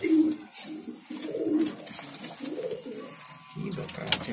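Dasu breed pigeons coo close by in repeated low throaty phrases, several rounds in a row, with a faint buzzing hum and some light background noise beneath.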